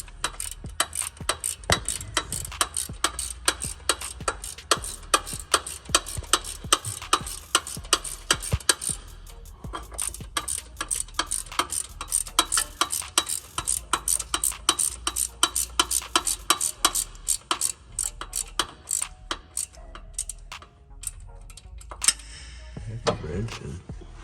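A ratchet wrench clicks rapidly and steadily while loosening a starter bolt on an Infiniti G37, close by and in sustained runs, with brief pauses and faint voices at times.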